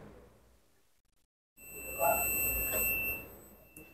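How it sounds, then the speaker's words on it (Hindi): A digital multimeter in continuity mode gives a steady high-pitched buzzer beep while its probes test pins on a washing machine control board. The beep starts abruptly after a short silence and holds for a couple of seconds. "शायद आप सुन पा रहे हो बीप साउंड।"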